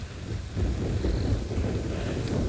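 Wind buffets the microphone on an afternoon safari drive in South Africa, a low, continuous rumbling roar that swells slightly and holds steady through the short stretch, with no voices.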